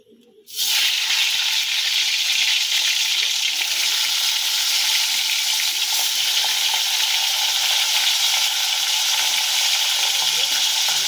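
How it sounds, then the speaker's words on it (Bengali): Hilsa fish heads dropped into hot mustard oil in a pan burst into a loud, close, steady sizzle that starts abruptly and hisses on unbroken, with no voices. "তেলটা আমাদের গরম হয়ে গিয়েছে। এবার ইলিশ মাছের মাথাগুলো দিয়ে দেব।"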